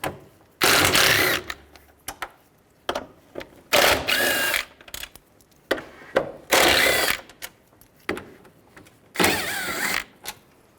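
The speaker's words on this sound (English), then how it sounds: "We're going to take these 4 bolts out. Use a T30 socket." Four bolts coming out of a 1998-2010 Volkswagen Beetle during radiator replacement, driven by a T30 socket on a power tool: five loud, separate bursts of whirring and ratcheting about a second each, with quiet gaps between.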